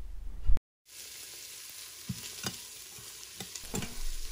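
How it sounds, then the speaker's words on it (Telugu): Onions, green chilies, bay leaf, cumin and curry leaves frying in hot oil, a steady sizzling hiss punctuated by occasional stirring taps, preceded by a brief clunk and a moment of silence. "కొంచెం ఆయిల్ వేడయ్యాక బిర్యానీ ఆకు, జీలకర్ర and 2 onions, 4 to 5 green chillies, కరివేపాకు ఇవన్నీ వేసుకుని ఫ్రై చేసుకుంటున్నాను."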